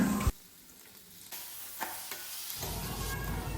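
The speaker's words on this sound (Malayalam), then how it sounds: "ഈ മുളക് പൊടിയെല്ലാം ഒന്ന് നല്ലോണം മിക്സ് ആക്കിയിട്ട് ചെറുപയർ ഇട്ട് കൊടുക്കുക" Chili powder and green gram being stirred in a hot pan for a moringa leaf and green gram thoran, with a soft sizzle and light scraping that thickens toward the end. No one speaks.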